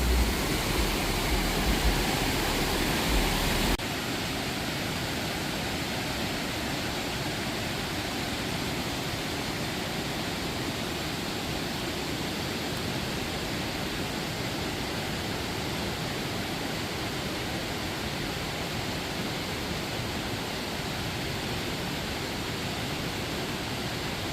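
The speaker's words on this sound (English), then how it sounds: "We're now here at Youghiogheny Falls, where I'm going to show you that waterfall." Youghiogheny Falls at Ohiopyle State Park, Pennsylvania, roars as a steady, broadband rush of falling water, loud and continuous throughout with no voices.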